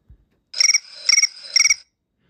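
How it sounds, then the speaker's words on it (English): Apple iPhone 16 Pro Crickets ringtone: three quick bursts of bright, high cricket-like chirping trills, evenly spaced about half a second apart, clear and alone. "Crickets."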